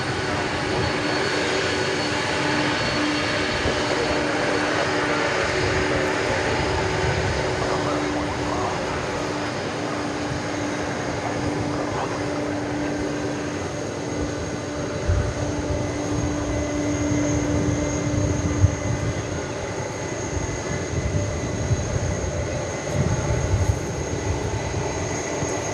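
A large cargo airplane rumbles steadily at DFW Airport at night, a sustained engine drone with faint tonal whine that grows slightly rougher toward the end.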